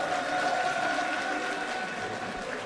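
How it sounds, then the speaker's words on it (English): Distant audience applause at a Guilty Gear Strive esports tournament, a soft sustained patter of many hands clapping, fairly faint, with a faint tonal hum underneath. "Je vous demande de l'applaudir très fort."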